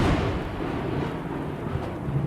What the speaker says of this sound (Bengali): বাইরে বাজ পড়ছে ক্রমাগত